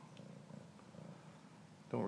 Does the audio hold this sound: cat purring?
yes